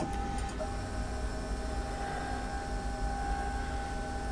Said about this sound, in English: So the machine is now moving back to the 3 limit positions.